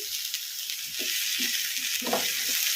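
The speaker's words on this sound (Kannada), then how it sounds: "ಬದನೆಕಾಯಿನ ಈ ಥರ ಕಲಿಸ್ಕೊಂತ ಒಂದೆರಡು ನಿಮಿಷ ಫ್ರೈ ಮಾಡ್ಕೊಂಬಿಡೋಣ ಹೈ ಫ್ಲೇಮಲ್ಲಿ" Eggplant frying in a pan over a high flame, a steady close hiss of sizzling oil with soft scraping and stirring knocks beneath it, and no talking.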